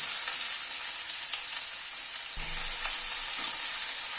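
Chopped onions fry on a low flame with nigella seeds and dried red chillies, a steady, close and fairly loud hiss of oil that continues evenly with no talking.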